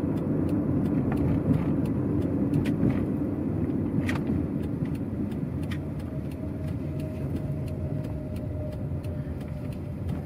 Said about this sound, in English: This is where I usually park. Always gotta back them in.